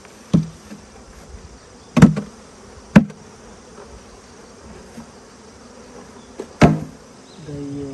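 Western honeybees hum around an opened hive as frames are moved from a nursery box into a ten-frame box. A faint steady buzz sits under a few loud wooden knocks and clunks from handling the hive.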